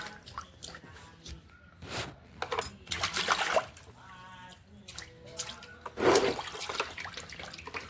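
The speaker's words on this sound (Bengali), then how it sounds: "নিজেই ও জল হাতে করে ঝাপটি ঝাপটি চারিদিকে ছড়িয়ে দেয়" A baby splashes bath water with its hands, making irregular close slaps, drips and splashes in quick bursts, with a soft voice now and then.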